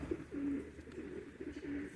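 Pigeons coo softly inside a loft, a few low burbling calls rising and fading over faint background hum, fairly quiet and without speech.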